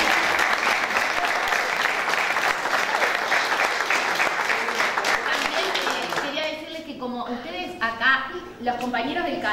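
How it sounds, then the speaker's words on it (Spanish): Audience applause welcoming the mayor at a municipal community dining hall event, dense and steady for about six seconds, then thinning into scattered claps as voices begin speaking. "Un aplauso."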